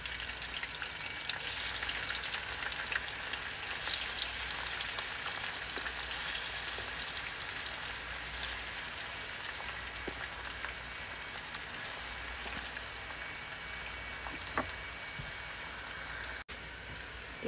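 Chopped tomatoes and green chilies fry in hot oil, giving a steady, close sizzle with a dense crackle that holds evenly throughout, alone with no voices.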